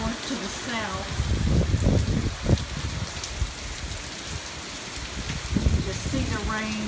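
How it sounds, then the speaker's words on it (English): Hurricane Matthew's heavy rain driven sideways by strong wind down a street, a loud continuous rushing hiss with gusty swells, while someone talks over it at intervals. "the wind is pushing the rain from the north to the south"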